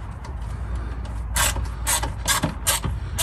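A hand ratchet snugs the plastic fuel filter housing bolts on a 2021 Ford 6.7 Powerstroke diesel, clicking close and crisp in a handful of short, evenly spaced bursts over low background noise.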